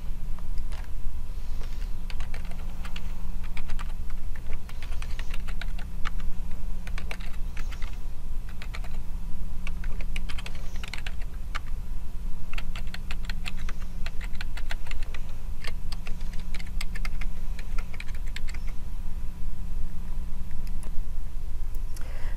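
Computer keyboard typing while entering library account sign-up details on a PC, a steady run of close, crisp key clicks lasting throughout with a constant low hum underneath.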